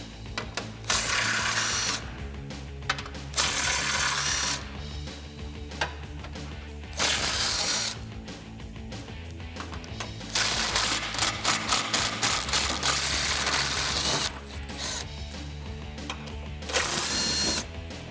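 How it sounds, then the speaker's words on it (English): Power tool spinning off 15mm skid plate bolts on a 2014-2018 Chevy Silverado 1500, loud buzzing bursts that start and stop repeatedly, several separate runs with short pauses between them. "We're gonna use a 15mm socket to take each one of those out and pull that skid plate off."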